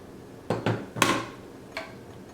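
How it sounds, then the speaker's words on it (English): Meat grinder attachment being fitted to an AMZCHEF GM3001 machine, making a few sharp plastic and metal clicks and knocks, two close together, then a louder clack and a fainter one, in a quiet room. "I'm just going to show you how quickly and how simple it is to attach the meat grinder attachment."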